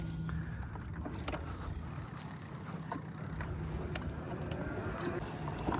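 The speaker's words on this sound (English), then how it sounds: "Let's hop on it and take it for a ride." A Mokwheel Onyx ST fat tire e-bike rolling along outdoors, giving a steady broadband road and wind rush with faint mechanical rattles throughout, fairly quiet and even, with no talking.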